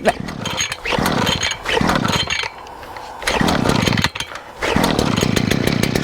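A small gas engine on a yard tool starts without the choke and warms up, with a close, loud, buzzing drone that rises and dips in uneven revving bursts while a person talks.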